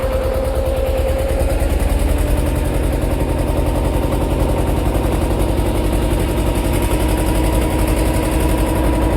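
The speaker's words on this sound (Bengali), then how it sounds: "আমাদের নৌকা ছেড়ে দিয়েছে, আর এই যে নৌকাটা আবার আপনাদের একবার দেখাই।" Motorboat engine running on a tidal river in the Sundarbans, a loud, steady, close chugging drone with a rapid pulsing rhythm and no pauses.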